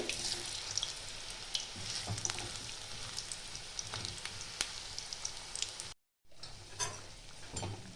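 Cauliflower pakoras deep frying in hot oil, a dense continuous crackling sizzle with sharp pops, briefly cut to silence near the end before resuming.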